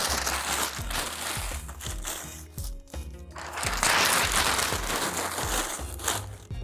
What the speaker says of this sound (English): putting in the paper.